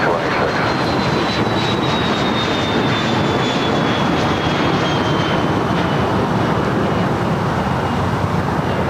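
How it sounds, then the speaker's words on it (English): A Cessna 560XL Citation XLS business jet takes off at LAX, a loud, sustained engine roar with a high whine slowly falling in pitch, heard from nearby, with a voice briefly speaking over it. "the Cessna 560 XL, citation XLS. Taking off at 25 left."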